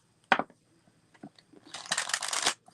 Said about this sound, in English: Okay, I'm going to shuffle these cards.